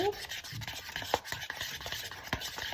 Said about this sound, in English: And I just stir back and forth, going different I go counterclockwise and clockwise.